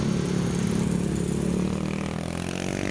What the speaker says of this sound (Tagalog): ang ingay ng motor guys